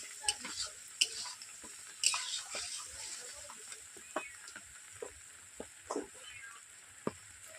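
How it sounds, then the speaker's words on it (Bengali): Diced potatoes being sautéed with spices in a pan for a Bengali home-style chicken curry, a steady faint sizzle broken by frequent light scrapes and taps of a spatula stirring at an irregular rhythm. "এরপর আলুগুলোকে আমি দু থেকে তিন মিনিট এইভাবে আমি কষিয়ে নিয়েছি"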